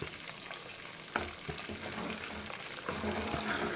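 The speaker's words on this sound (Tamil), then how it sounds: "நல்லா சலசலன்னு சவுண்டு கேட்குது பாருங்கள்" Homemade ghee sizzles in a pan, a soft, continuous crackling fry with occasional small pops, close but fairly quiet and heard without speech.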